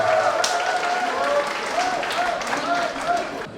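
Audience applause at a competition match between two players, sustained and fairly steady, under an announcer's voice throughout.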